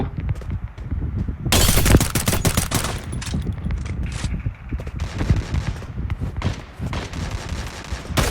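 Rapid bursts of video game gunfire crackle loud and close, with dense overlapping shots and short pauses between volleys during a chaotic firefight.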